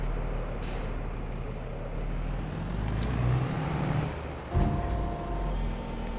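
A truck braking in a video game, a constant low engine drone with a sharp hiss of air brakes near the end and a brief squeal.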